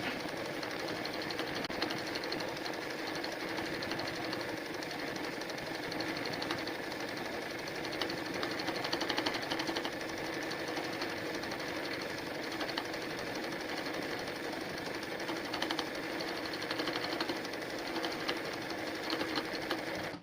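A sewing machine stitches machine embroidery, a running-stitch leaf design, in a steady, continuous whir of rapid needle strokes that holds at an even loudness from start to finish, with no talk over it.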